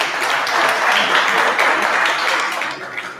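An audience at a Mexican art and photography auction claps after a lot is sold, a brief burst of steady, full applause filling the room before fading slightly.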